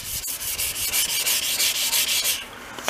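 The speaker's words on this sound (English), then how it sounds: "We're going to wet sand it with this stuff." Steel plate six inches square being wet sanded by hand with a lubricant spray, giving a steady, close, rhythmic back-and-forth scrubbing with even strokes throughout and no talk.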